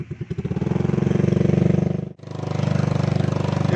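A Kawasaki KLX trail motorcycle on a rough dirt and stone track revs hard and close, its pulsing engine note rising, dipping sharply for a moment, then roaring again.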